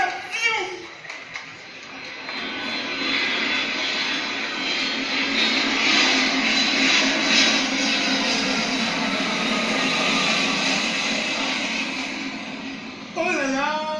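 Steady broadband roar of a passenger airplane engine, loud and sustained for most of the stretch, with brief children's voices at the start and end.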